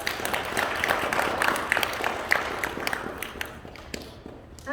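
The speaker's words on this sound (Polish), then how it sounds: "I brawa dla Natanka" Audience applause for a first-grade pupil just inducted at a Polish school pledge ceremony, a dense patter of many hands clapping at moderate distance, steady for several seconds then thinning out near the end.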